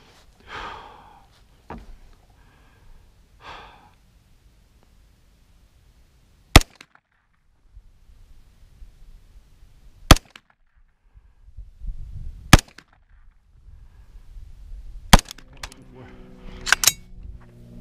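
Several sharp, loud rifle shots from an AR9 KE Arms pistol-caliber carbine with Glock magazines, JP bolt and JP SCS buffer, fired spaced apart during a break-in range session, with faint talk and handling noise between shots.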